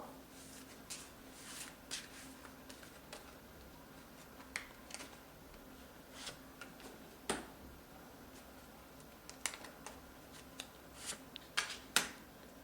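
Tarot cards shuffled and drawn from a deck during a reading, heard as soft, faint rustles and sparse crisp card snaps and ticks spread across a quiet room, with no talking.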